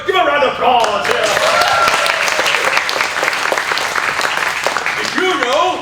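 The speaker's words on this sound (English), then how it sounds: "Give a round of applause here." An audience at a live improv comedy show applauds its three award-winning characters, sustained loud clapping and cheering that fills the whole stretch with a steady, even roar, voices mixed in.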